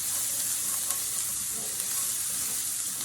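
One-pan chicken and rice with onions sizzling as it is stirred, a continuous close frying hiss with soft scraping strokes of the utensil, and no voices.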